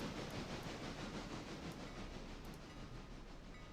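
A train from the Smoky Mountain Railway game rumbles steadily along the rails, a continuous dense roll with faint rhythmic clicks, heard alone.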